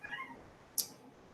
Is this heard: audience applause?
no